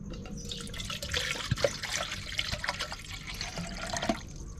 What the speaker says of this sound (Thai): ใส่น้ำลงไปครับ